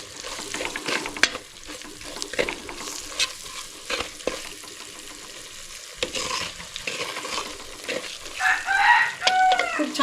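Bottle masala frying in oil for a traditional rainy-season shevla vegetable dish, a close sizzle broken by scraping spoon strokes, with a rooster crowing faintly in the background near the end.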